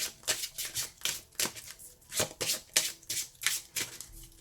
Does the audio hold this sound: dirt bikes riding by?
no